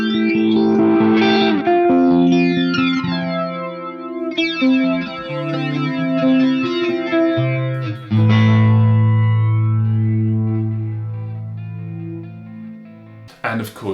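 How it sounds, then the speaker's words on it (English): Guitar chords through an EHX Stereo Electric Mistress with the chorus backed off and more flanger sweep, strummed in several loud, close bursts with a jetlike whoosh on the sustained tones. "you could back the chorus off, say, and have more of the flanger in there"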